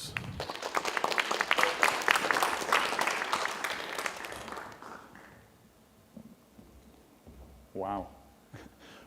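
An audience at a Pecha Kucha talk night applauds a speaker being introduced, a broad burst of clapping that swells and then fades over several seconds before a voice speaks alone.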